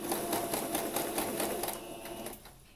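A sewing machine runs a zigzag seam on fabric, its rapid rhythmic needle clatter steady and close before slowing and stopping near the end.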